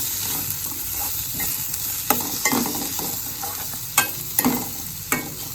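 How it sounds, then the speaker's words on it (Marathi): Onions and tomatoes with turmeric and salt stirred in a pan for methi bhaji, a steady soft sizzle broken by a handful of sharp spoon scrapes and clacks against the pan, close by with no talking. "हे घालून आनी परत एकदा स्टर करप"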